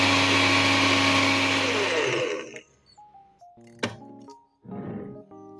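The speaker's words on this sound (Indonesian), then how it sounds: "ini sama akan dihaluskan juga di blender" A blender grinds 150 grams of granulated sugar with a loud, dense whirring roar for about two seconds, then cuts off, followed by a few faint knocks and brief clattering.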